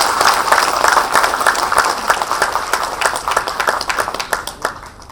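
An audience claps together in approval at a gathering, a loud, dense burst of many hands that rolls on evenly before gradually thinning and fading toward the end, with no talking.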